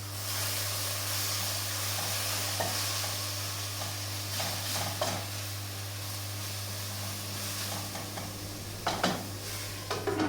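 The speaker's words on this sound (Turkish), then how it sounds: "Ben önce şu Suyunu çeken kadar kıymanı kendine kavururum." Minced meat frying in a pan until its liquid cooks off, giving a steady soft sizzle and hiss with a constant low hum beneath and a few faint stirring scrapes near the end.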